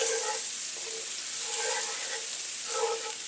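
Tomatoes hit a hot pan of asparagus, setting off a steady, close sizzle with faint bursts of stirring on top.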